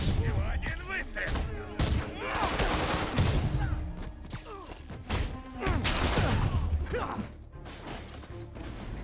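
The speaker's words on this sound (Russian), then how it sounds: "Всего один выстрел!" Gunfire in Marvel's Spider-Man as a gang shoots, loud bursts and thuds mixed with crashes, dense and continuous throughout, with voices talking over the action.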